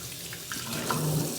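Tap water runs into a sink as sea moss is rinsed to wash out sand, a brief steady splashing rush heard close up with no talk.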